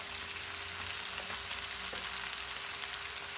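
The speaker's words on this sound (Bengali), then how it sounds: "মশলাটা কষা হবে আর কি, পুরো কষা হবে" Spices, turmeric and cumin sautéing in about a cup of oil in a pan, a steady soft sizzle and crackle with faint stirring, close and alone without any talk.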